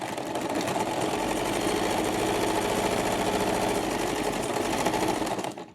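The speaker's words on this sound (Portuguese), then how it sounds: "vira o puxador, levanta a agulha, costura o outro lado" A sewing machine stitches the second side of a fabric pencil case in one steady, rapid run of needle clatter lasting several seconds, close up and alone.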